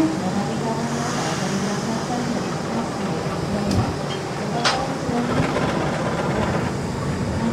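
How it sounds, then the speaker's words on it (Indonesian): Railway yard ambience as a locomotive is uncoupled from the Kamandaka passenger train for shunting, a steady low mechanical rumble with a couple of sharp metallic clanks partway through, fairly loud. "Persiapan pelepasan lokomotif dari rangkaian Kamandaka ya akan berpindah posisi."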